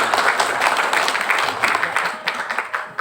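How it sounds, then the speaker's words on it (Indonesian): Applause from a seminar audience, many hands clapping in a steady burst that grows uneven and scattered toward the end, with faint voices underneath. "Boleh sekali kita tepuk tangan untuk Ibu Oti?"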